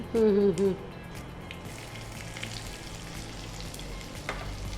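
Steady crackling sizzle of onion and mustard seeds frying in hot oil, continuous throughout, with a brief voice-like tone at the very start.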